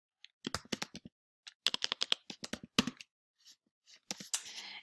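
Typing on a computer keyboard while entering a form title, with quick irregular bursts of close, crisp key clicks separated by short pauses and a denser flurry at the end.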